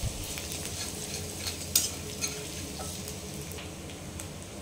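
Chopped onions frying with ginger and garlic in hot oil, a soft continuous sizzle with light stirring and a couple of brief utensil clicks, close and fairly quiet.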